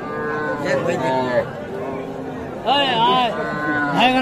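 Young calves and cattle moo repeatedly at a busy livestock market, close and loud, in drawn-out calls heard over a background murmur of voices.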